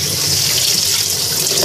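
Water runs steadily from a kitchen sink tap while hot dogs are drained, a continuous close hiss with no pauses and no voices.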